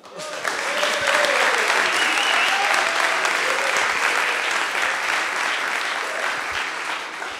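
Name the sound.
audience applause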